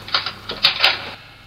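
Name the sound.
ice cracking sound effect, symbolising blocks cracking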